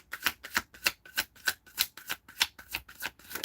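Tarot cards are shuffled in a quick, even rhythm of about a dozen crisp riffling bursts, close and clear with no talk over them.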